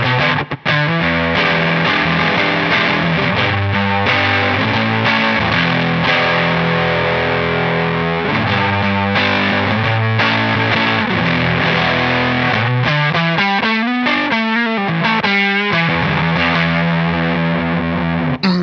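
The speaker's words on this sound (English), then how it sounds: "now could sound more like an overdrive, or now could sound more like a Fuzz" Heavily distorted electric guitar through a Cornerstone fuzz/overdrive pedal plays thick, buzzing fuzz riffs and sustained chords, loud and continuous with no voices.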